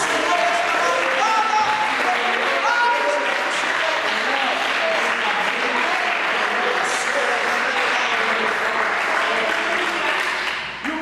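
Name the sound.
congregation applauding at church vigil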